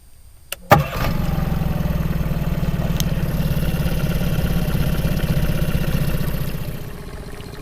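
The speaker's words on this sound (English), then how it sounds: "So here we go, 3 blade propeller." Small boat outboard engine fitted with a three-blade propeller cranks, catches with a sharp start, then runs at a steady loud drone that eases slightly toward the end.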